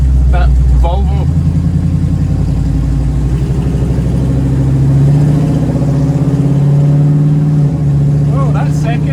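A 1936 Chevy coupe engine pulling hard in second gear, a loud sustained low growl rising slightly in pitch, heard from inside with someone talking over it.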